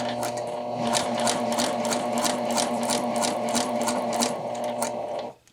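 A sewing machine runs steadily, stitching bias tape onto a neckline as a facing, with a continuous close motor hum and rapid needle rhythm for about five seconds before stopping abruptly.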